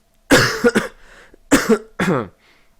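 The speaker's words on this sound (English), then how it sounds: "Once again, sorry that I've been coughing." A nearby person coughs in two rough bursts, each a cluster of harsh hacks with a short gap between them.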